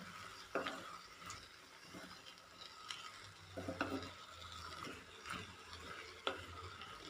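Papaya being stirred in an oiled clay pot: a quiet sizzle broken by irregular scraping and clinking strokes of a spoon against the pot, with no voices.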